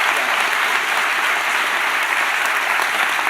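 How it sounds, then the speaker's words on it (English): An audience at a live debate event in California applauds, dense sustained clapping filling the whole stretch at steady loudness, close and continuous. "can we just give a round of applause"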